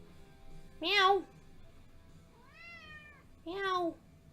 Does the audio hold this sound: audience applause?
no